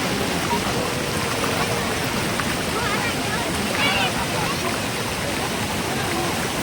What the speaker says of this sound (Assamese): চাওকচোন বশিষ্ঠ মন্দিৰৰ কাষেদি এই নদীখন বৈ গৈছে।